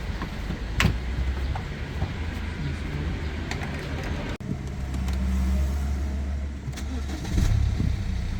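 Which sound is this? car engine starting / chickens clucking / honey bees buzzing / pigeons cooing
car engine starting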